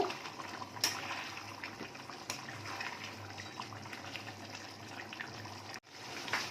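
Mutton masala curry cooking in a pan, a steady bubbling, sizzling wash close by with a few sharp scrapes, running evenly until a brief drop to near silence before the end.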